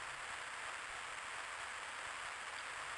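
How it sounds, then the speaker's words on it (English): Steady, even rain hiss from Tactics Ogre: The Knight of Lodis fills the scene as a continuous broadband wash with no breaks, heard alone at a moderate level. "So it's raining."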